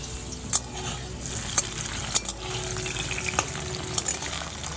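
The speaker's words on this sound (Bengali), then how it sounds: "গ্যাসের ফ্লেমটা লো করে দিয়ে আমি আলুটাও একটু ঢেকে ঢেকেই ভাজবো।" Potatoes frying under a lid in a pan over a low gas flame, a steady soft sizzle with occasional sharp clinks and stirring knocks.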